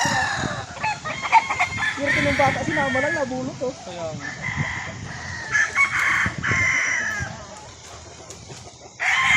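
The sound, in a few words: gamefowl roosters crowing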